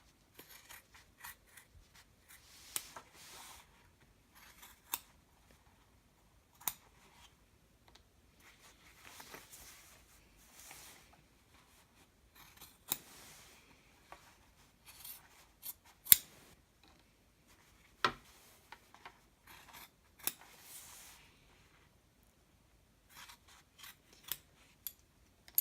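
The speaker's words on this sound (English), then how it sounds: "Now I'm going to cut out these squares." Scissors snip through fabric squares while a dopp kit bag is being sewn, producing quiet, sharp, irregular cuts spaced out with brief pauses, close by and alone in a near-silent room.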